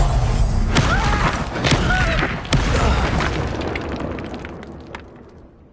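A fire spell cast in a Hogwarts wizarding video game bursts out with a sequence of loud booming thuds and crackling blasts, several sharp hits close together, then trails off into a fading rumble.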